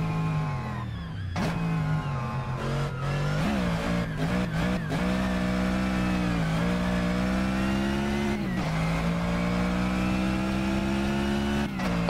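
Car accelerating hard on a racing track, engine revving up through the gears with repeated pitch climbs and drops at each shift, loud and close from inside the car.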